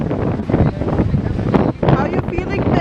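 Strong cold wind buffets the microphone at a beach on Bornholm's southern tip, with loud gusty rumbling and bursts of roaring noise, with voices mixed into the wind.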